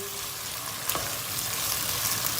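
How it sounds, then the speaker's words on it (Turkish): Tomato paste frying with onion in a pot gives a steady, close sizzle, with a brief stir or scrape near the start. "Domates salçasını da iyice bir kavuracağız soğanla beraber."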